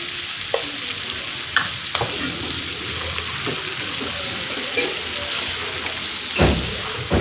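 Spices fried with red chili powder being stirred in a pan, a constant close sizzle broken by occasional spatula scrapes and knocks, with no speech.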